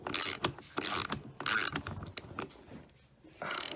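Ratcheting and mechanical clicking from a wrench tightening a bolt on a 2017 KTM 85 engine during a rebuild, in short close bursts with brief pauses between strokes.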